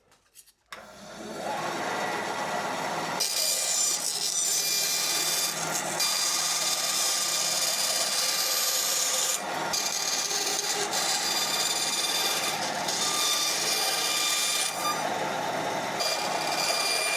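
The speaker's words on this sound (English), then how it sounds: "fire that over to the bandsaw, get it cut roughly to shape, trim it down on the disc sander" A bandsaw cutting wood roughly to shape for a Flying V guitar truss rod cover, then trimming on a disc sander, a steady loud machine whine and rasp with several short pauses and shifts in pitch.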